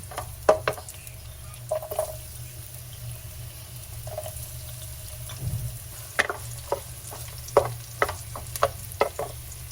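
Garlic sautés in cooking oil with a low, steady sizzle, broken by scattered sharp clinks and scrapes of a utensil against the pan, growing busier toward the end with no voices.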